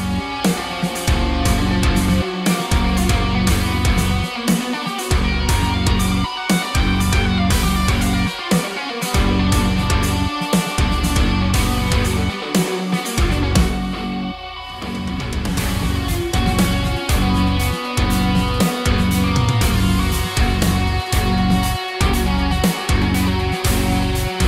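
A computer-generated guitar solo with random note lengths plays loud and dense over a full backing track, notes tumbling faster toward the end with a brief dip midway.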